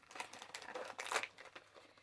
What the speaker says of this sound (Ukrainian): Я не знаю, де мої ножиці, тому я буду відкривати вручну.